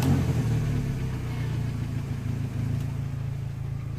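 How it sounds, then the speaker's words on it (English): A Peugeot 208 car engine runs steadily at a low, even idle just after starting, close by and continuous with no talking. "let me start the engine"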